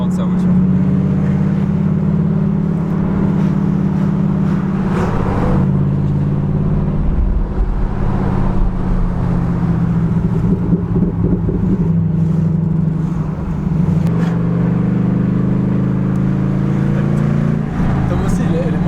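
A sports car engine drones loudly and continuously, rising and falling in revs across the stretch, while people chat over it.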